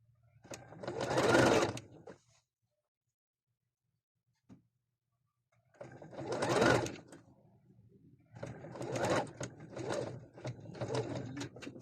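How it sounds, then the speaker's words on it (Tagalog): Sewing machine stitching a shirred halter top, loud close whirring bursts, one long run, a pause with a faint click, then more runs that stop and restart in short stretches. "Why is my machine not doing a backstitch?"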